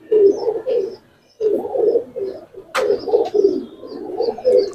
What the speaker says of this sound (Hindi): इतना पुराना कबूतर होने के बावजूद कबूतर उड़ाने के लिए तैयार है